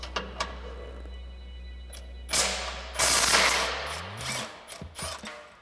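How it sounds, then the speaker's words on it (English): Impact wrench with an 18 mm socket loosening the bumper nuts on a RAM 2500 HD pickup, short rattling bursts of hammering with a couple of light clicks before them, close and fairly loud, with quieter gaps between bursts. "we're gonna grab our 18 millimeter socket on our impact and an 18 millimeter wrench, and we're gonna remove the nuts"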